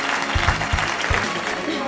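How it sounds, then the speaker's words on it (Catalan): Applause from a crowd at a Socialist Party Christmas dinner, a dense wash of clapping with a few heavy thumps, steady and fairly loud with voices mixed into it. "un aplaudiment fort de tot el Partit Socialista pels docents que han donat una lliçó de"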